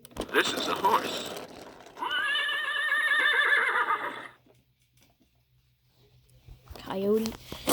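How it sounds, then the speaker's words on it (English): Recorded horse whinny from a See 'n Say toy, a long, loud, wavering neigh after a short burst of talk, then near silence before a voice resumes. "This is a horse."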